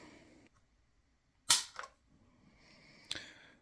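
An M1911 A1 .45 ACP pistol's trigger is pulled against a Wheeler trigger gauge, producing two sharp, close metallic clicks about a second and a half apart, each with a quick secondary snap, amid quiet surroundings.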